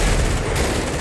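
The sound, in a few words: tanks exploding in GTA video game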